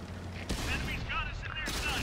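Gunfire from enemy tanks in the World of Tanks video game crackles in quick bursts with a sharp crack midway, under a voice.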